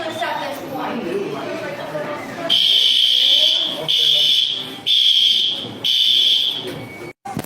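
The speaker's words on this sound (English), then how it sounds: "pull the fire alarm and evacuate the whole Olive Garden" A fire alarm goes off in an Olive Garden restaurant, sounding as loud, shrill pulses repeated four times after a stretch of busy voices and crowd noise.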